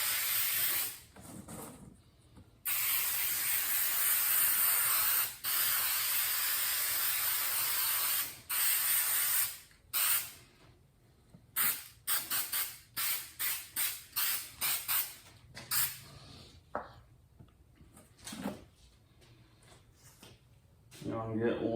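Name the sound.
spray adhesive being sprayed onto mesh material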